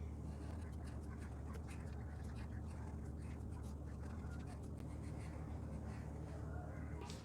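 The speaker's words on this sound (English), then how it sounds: "We have to draw 3 lines." A pen scratches out several lines on paper, quick repeated strokes close by over a low steady hum with faint background noise.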